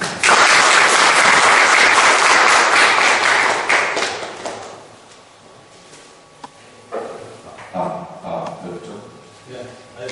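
Audience applause welcomes an ambassador at a Korean lecture on diplomacy and Southeast Asia, loud broadband clapping for about four seconds before fading into quieter room sounds and scattered noises.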